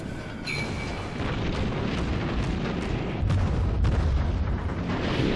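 Naval gunfire from a World of Warships cruiser battle against a destroyer, heard as a sustained roar of booming shots and explosions with dense rumbling bursts and no talk.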